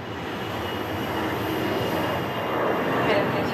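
Steady broadband roar of an airliner's engines as the plane departs on a morning flight to Toulouse, loud and continuous with a slight swell near the end.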